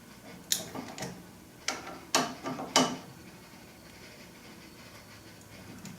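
Tightening brake caliper bolts on a BMW R65 motorcycle with a torque wrench gives a few sharp metallic ratchet clicks in short bursts, close by and fairly quiet, with pauses between them and no talk.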